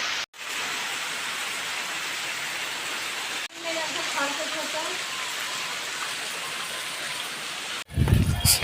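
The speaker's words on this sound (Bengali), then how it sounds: "এত বৃষ্টি চলে এসছে" Heavy rain pours in a steady, loud hiss on a street, with a couple of abrupt breaks in the sound and a faint voice briefly underneath partway through.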